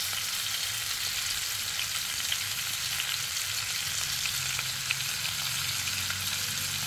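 Beef steak fries in mustard oil with a continuous close sizzle and crackle, steady and even throughout.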